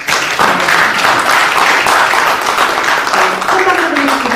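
Loud, dense applause fills the room at an award ceremony held at the National Assembly, with many people clapping together close by. A voice speaks faintly beneath the clapping toward the end.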